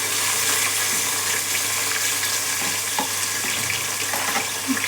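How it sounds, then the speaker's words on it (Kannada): Onions fry in hot oil with cinnamon, cloves and star anise for a mutton dish, a steady close sizzling hiss with a few faint clinks and stirs and no voices. "ನಂತರ ಕಾದಿರೋ ಎಣ್ಣೆಗೆ ಈರುಳ್ಳಿ ಹಾಕ್ಕೊಂಡಿದ್ದೀನಿ ನಾನು"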